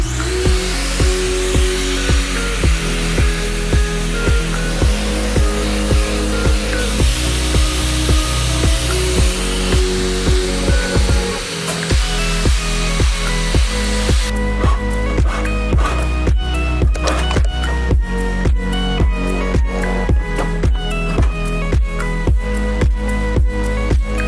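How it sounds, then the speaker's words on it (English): An angle grinder cuts into a Sprinter van's metal roof to enlarge the opening for a Thule roof hatch, a loud, close, harsh whine with rapid rhythmic pulses running continuously. "The hole was too small, so I used the grinder to make it bigger."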